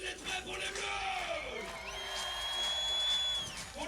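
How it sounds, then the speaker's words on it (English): A basketball crowd at a FIBA 3x3 European Championships qualifier in France is on its feet, its cheering and whooping swelling in a dense roar, with a whistle-like tone rising above it. "The crowd is on its feet."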